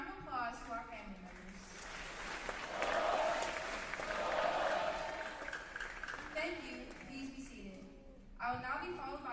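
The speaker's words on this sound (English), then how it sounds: "Please give a round of applause to our family members." An audience at a school Veterans Day assembly applauds veterans' family members. The applause swells loud and broad in the middle and lasts several seconds, with a voice speaking before and after it.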